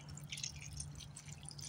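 Water being poured over newly planted primroses set in fresh garden soil, a faint steady dripping and trickling close by with no voices.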